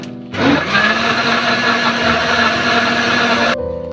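An electric mixer grinder whirs loudly for about three seconds, blending banana milkshake, its motor starting with a jolt and holding a steady high whine before cutting off abruptly.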